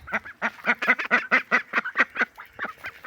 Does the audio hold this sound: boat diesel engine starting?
no